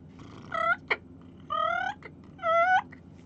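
Soft turkey calls made on a hand-held hunting call for spring gobbler season: three short, rising yelp-like clucks with a brief sharp note between the first two, close and clear over quiet room noise.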